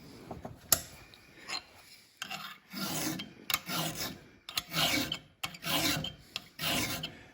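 A metal file rasps against a captive ring in short, close, gritty strokes with brief pauses between them, steady back-and-forth filing at moderate loudness.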